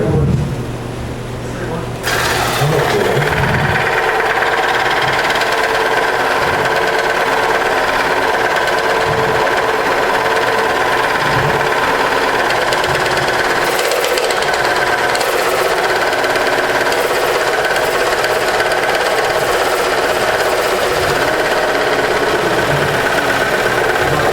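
A wood lathe coring a bowl runs with a steady mechanical hum and drive-belt whir throughout, loud and close, with people talking over it.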